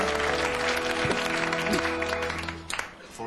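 A studio audience at a comedy show claps and cheers in a dense, continuous burst that tapers off slightly toward the end, with a steady hum running underneath.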